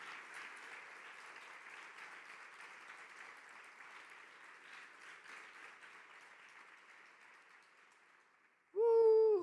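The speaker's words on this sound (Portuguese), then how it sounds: "Dê um forte aplauso ao Senhor por esta palavra." A church congregation applauds during a worship service, a sustained, moderately distant clapping that gradually fades out before a voice starts up at the very end.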